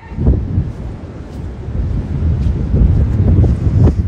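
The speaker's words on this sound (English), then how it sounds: "I'm on the beach. It's breezy." Steady wind gusting across a microphone on a breezy beach, a loud low rumble that swells and buffets throughout with no clear voices.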